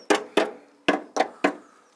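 A hammer strikes metal on a Morris Minor car, giving five sharp, close, loud blows at an uneven pace with short gaps between them.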